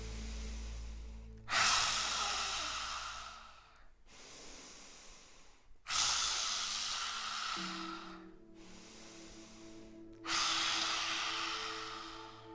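Slow, deep yogic breaths during a guided breathing exercise in a yoga session, three long airy breaths, each rising sharply then fading gradually, loud and close with brief quiet gaps between them.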